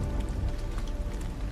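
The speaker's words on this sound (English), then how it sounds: "All this rain washing over their faces and nobody even squints." Steady rain from the video game Detroit: Become Human, a dense, even wash of falling water pattering on surfaces, close and continuous throughout with no voices.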